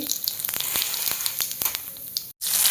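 Whole cloves, cardamom, cinnamon, bay leaf and cumin seeds sizzle steadily in hot oil, a close dense hiss punctuated by sharp pops, with a brief drop to silence near the end before the frying resumes.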